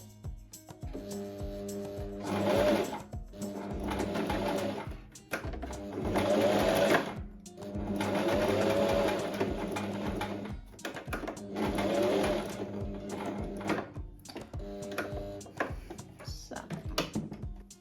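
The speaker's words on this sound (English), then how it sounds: "we sew these pieces together with a normal sewing foot from the bottom to the marking that we just made" A sewing machine with a normal sewing foot stitches dress pieces together along a 1 cm seam, running in several loud, close bursts of fast rhythmic whirring separated by short pauses, with a voice talking over parts of it.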